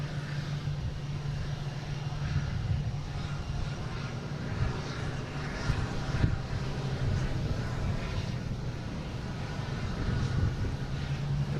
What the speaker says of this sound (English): So we got a Bombardier Challenger coming around the corner here.